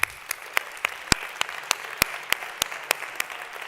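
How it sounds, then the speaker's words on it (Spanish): Scattered, crisp hand claps from a small audience at a public presentation of voting results, fairly steady and spaced out, with no voices over them. "Y un aplauso muy fuerte."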